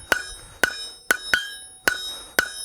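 Hammer blows ring out on steel at an anvil as a blacksmith draws a leaf blank down thinner: six sharp, close metallic strikes in an uneven rhythm with short pauses, no talk.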